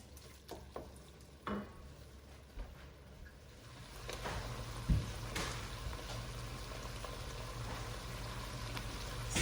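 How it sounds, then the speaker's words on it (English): Ground meat browning in a pan for homemade chili gives a soft, low sizzle with occasional spatula scrapes and knocks, growing a little fuller and steadier partway through, close and without voices. "I'll let this finish cooking up and browning"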